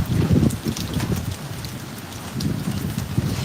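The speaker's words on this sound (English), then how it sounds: "Is that hail?" Hail or heavy rain pelts down outside under a wild stormy sky, a dense, steady patter of impacts that swells louder at the start and end, with no talking.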